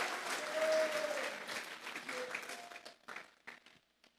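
Church congregation applause rises loudly and then thins out into scattered, fading claps, with a few voices faintly audible in the crowd.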